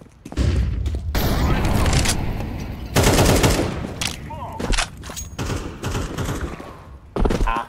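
AK rifle fire in the game Counter-Strike 2, several loud close bursts of rapid shots separated by short pauses, with a player talking between the volleys.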